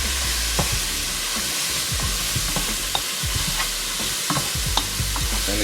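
Andouille sausage frying in a pot, heard up close: a constant loud sizzle with frequent clacking, scraping stirs throughout, and no voices.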